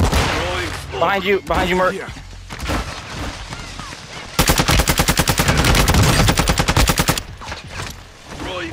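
Rapid automatic gunfire in a video game, a loud sustained burst of evenly spaced shots lasting a few seconds, with players talking before it begins.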